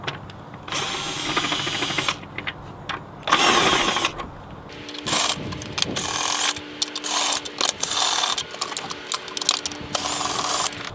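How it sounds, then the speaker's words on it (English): A power drill fitted with an adapter spins out engine bolts on a 3.6L Pentastar engine, giving loud bursts of high whirring with short pauses and ratcheting clicks between them, close and with no talk. "I got a nice adapter for my drill."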